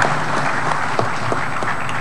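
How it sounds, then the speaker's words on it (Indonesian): Applause fills the chamber of Indonesia's People's Consultative Assembly (MPR) after a new speaker takes office, dense and steady with a few sharper claps standing out. "Kita berikan tepuk tangan yang meriah untuk ibu kita."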